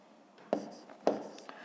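A pen writes a number on paper during a long-division problem: two short, quiet scratching strokes about half a second apart, close up in a silent room.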